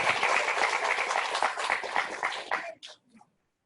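An audience at a teachers' discussion event claps in a dense, even burst that holds steady for nearly three seconds, then thins out into a few scattered claps and stops.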